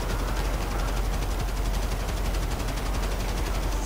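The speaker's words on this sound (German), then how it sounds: "Ich schieße auf dich natürlich." Rapid gunfire in the online video game GTA 5, a dense, continuous burst of automatic shots at steady loudness throughout, no voices heard.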